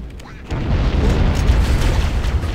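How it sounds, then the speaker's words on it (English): Grenade explosion in Halo: Combat Evolved, a loud, deep boom that swells after a quiet moment and rumbles on with a noisy low-heavy roar. "Throw another grenade."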